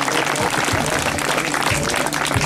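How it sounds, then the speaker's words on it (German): A live audience at a ringside event in Rüsselsheim applauds loudly and steadily throughout, a dense wash of clapping with faint crowd noise and no clear speech. "Bitte nochmal ordentlich Applaus."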